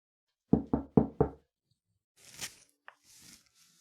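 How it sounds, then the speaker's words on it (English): Four sharp knocks on a door in quick, even succession, close and clear, followed by some quieter shuffling and movement sounds. "And someone hears a knock at the door."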